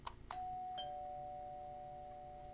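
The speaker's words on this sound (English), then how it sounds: "Oh, that's a doorbell." A doorbell rings in the indie horror game Horror Engine, with two sharp strikes followed by a long, steady, ringing tone that slowly fades over quiet background.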